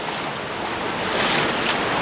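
Fast-flowing stream water rushing through a cave passage at Easegill in near-flood conditions, a loud, steady broadband roar and surge that swells slightly midway, close and continuous with no voices.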